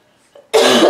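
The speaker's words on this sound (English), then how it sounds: "She's making me cough." A single loud, harsh cough bursts out close up after a moment of near silence.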